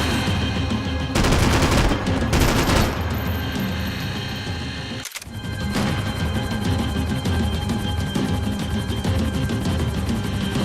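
Dense, continuous gunfire from the video game Max Payne 3, sustained bursts of shots rattling throughout over a loud, busy mix, with a brief dropout near the middle before the firing resumes.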